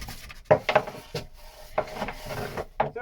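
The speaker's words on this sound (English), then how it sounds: "So I was sanding the way down now" Hand sanding of filler on a boat locker hatch: a series of short abrasive rubbing strokes in uneven rhythm, close and moderately loud, with quiet pauses between strokes.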